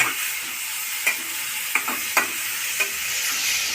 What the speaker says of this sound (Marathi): आता मम्मीने इथे टमाटर कापून घेतले आणि आता टमाटर टाकते